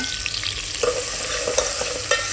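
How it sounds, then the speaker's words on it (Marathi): Vertically sliced onion with a bay leaf dropped into hot oil in a pan for mutton pulao, sizzling steadily with a sudden louder crackle as it goes in and scraping stirs after, close up with no talking. "आता फक्त मी ह्याच्यामध्ये कांदा जो मी उभा चिरला होता तो टाकणार आहे"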